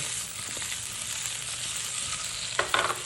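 Food sizzles steadily in a hot pan, a constant close frying hiss, with a brief clatter of tossing and stirring just before the end.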